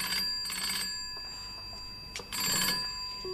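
A telephone bell rings nearby in two clear bursts separated by a pause, loud and unaccompanied by any talk, in the TV series Odd Man Out.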